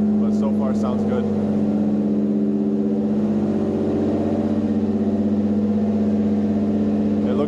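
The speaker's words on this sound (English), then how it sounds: "They went through their first couple rips in the car." A tuned car engine revs steadily on tune day, a loud, close, continuous droning hum from inside the car, with people talking over it at the start.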